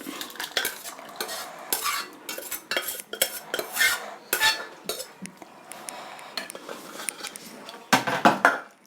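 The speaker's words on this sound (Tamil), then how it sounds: "இப்போ நம்ம இந்த மண் பாத்திரத்தில் இதை விட்டுக்கலாம்." Cooked pumpkin and dal is transferred from a pressure cooker into a clay pot, with a metal spoon scraping, stirring and clinking against the vessels in quick, uneven bursts at close range.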